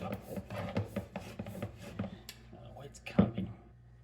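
A tool saws and scrapes into the metal casing of a Castrol synthetic oil filter in a quick series of rough, rhythmic strokes, then a single sharper clunk near the end. Someone talks over it.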